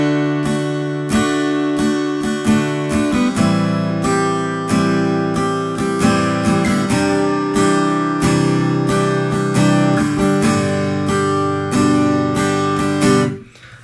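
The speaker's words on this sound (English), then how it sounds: "you can use this basic strumming pattern if you like" Acoustic guitar strums a steady down-up pattern of chords for the worship song Revelation Song, loud and close, ringing alone without any voice throughout.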